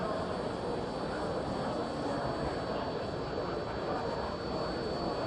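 A turbine engine started by a jet engine runs in a steady, continuous roar with a thin high whine on top. It sounds loud and even throughout, with no talking.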